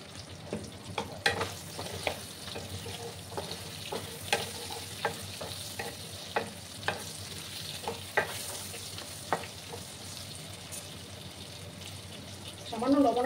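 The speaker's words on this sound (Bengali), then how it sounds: "আলুগুলোকে একটু লাল লাল করে ভেজে নিতে হবে।" Potatoes with turmeric frying in a pan for a boal fish curry, a soft continuous sizzle broken by regular sharp stirring scrapes, with a short tap-water splash at the end.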